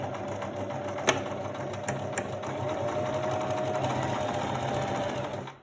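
A sewing machine runs steadily, stitching fabric straight over pins, a continuous close whir with a faint tap or two near the start and no talking.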